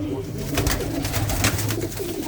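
Pigeons kept by a Jalandhar-area fancier coo steadily in a low rolling drone at close range, with voices faintly mixed in the background.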